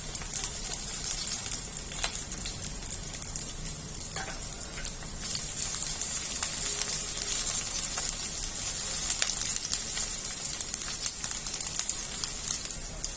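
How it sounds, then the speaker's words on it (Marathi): Finely chopped garlic, ten to twelve cloves, frying in hot oil as a tempering for Chicken 65, giving a faint, steady crackling sizzle that runs evenly throughout with no talking. "दहा ते बारा लसणाच्या पाकळ्या बारीक चिरून घ्यायच्या आहेत आणि त्या तेलामध्ये घालायच्या आहेत"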